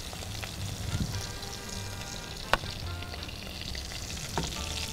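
Garlic and chicken liver fry together in butter or ghee in a pan, giving a steady close sizzle with a few sharp clicks and knocks of stirring and no talk.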